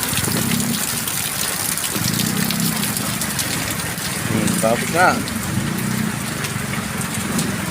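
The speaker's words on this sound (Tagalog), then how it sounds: "grabe yung ulan no oh" Heavy rain from Typhoon Dante pours down in a constant roar, with a brief murmur of a voice partway through and a faint whine rising over the downpour.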